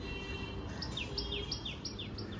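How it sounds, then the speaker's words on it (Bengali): A tailorbird in a tree gives sharp, repeated chirps in quick succession, calling steadily at moderate distance over low ambient hum. "ওই গাছটার মধ্যে টুনটুনি পাখি বসে আছে"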